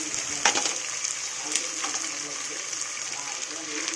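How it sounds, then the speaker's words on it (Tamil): Ginger garlic paste frying in a pan, a steady soft sizzle running throughout with a few sharper crackles, close and moderately quiet. "இஞ்சி பூண்டு பேஸ்ட்டு நல்லா ஃப்ரை பண்ணிவிட்டு இது கூடவே புதினா போட போகிறோம்."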